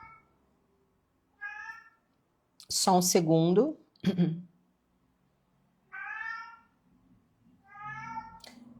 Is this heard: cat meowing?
yes